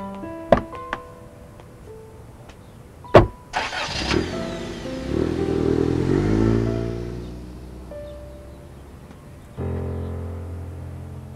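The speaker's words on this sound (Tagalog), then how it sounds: "Hindi ba kotse ni Ted yan?" A car engine cranks and catches after a few sharp knocks, then idles and revs steadily with a rising and falling tone, close by and fairly loud, before settling.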